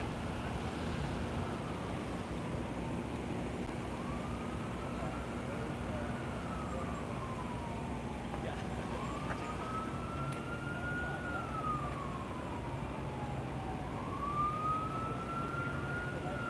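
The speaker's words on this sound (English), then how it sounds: "I'm hearing more sirens coming this way." Police sirens wail near the US Capitol during a bomb threat, their rising and falling tones drifting in from a distance over steady street rumble and wind, growing slightly clearer as they approach.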